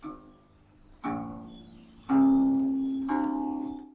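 Deep plucked guqin notes, four strong low tones struck about a second apart, each ringing and slowly decaying, resonant and earthy.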